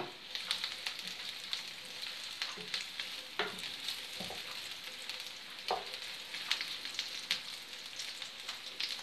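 Sausages sizzle and crackle in a frying pan, a steady bright hiss with scattered pops and spits running throughout, close and fairly loud with no talking.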